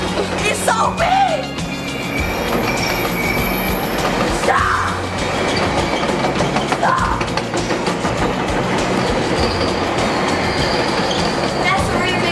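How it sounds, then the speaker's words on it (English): A big train rolls past on nearby tracks, a loud, sustained rumble with clattering wheels and occasional high squeals, while people talk and shout over it. "That's a really big train."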